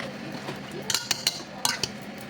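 Metal utensil mashing potatoes in a pot in a home kitchen, giving a series of sharp clinks and scrapes in two quick bursts over a low background hum, with no talking.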